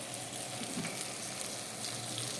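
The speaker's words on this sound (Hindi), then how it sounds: "अभी इसको ऐसे ही आप भूनते रहिए जब तक कि प्याज थोड़ा गोल्डन ब्राउन का ना हो जाए" Onions with garlic and ginger paste fry in a pan for an Assamese mutton curry, giving a dense, even sizzle that hisses steadily throughout with no talk.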